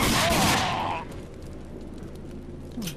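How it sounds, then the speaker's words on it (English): Gunfire in the video game Rage: a loud burst of shots at the start that fades after about a second, leaving a low rumbling game ambience with a faint sound near the end. "How many times I gotta shoot this dude?"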